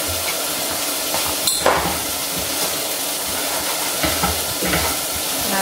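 Ground beef sizzles and hisses steadily in a hot pan while being stirred, with occasional scraping of the utensil against the pan, loud and close, no talking.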